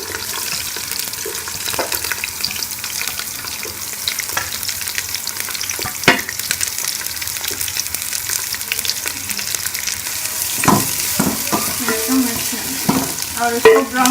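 Chopped onions fry in hot ghee for a chicken biryani, a continuous close sizzle with occasional clinks and scrapes of a spoon stirring the pot, louder bursts near the end.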